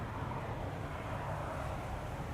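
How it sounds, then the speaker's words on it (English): A Coast Guard plane departs Amsterdam Schiphol Airport on runway 22, its engines making a broad, steady roar from a distance with no voices. "That's the airplane we've been hearing all along."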